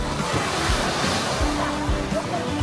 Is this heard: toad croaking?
no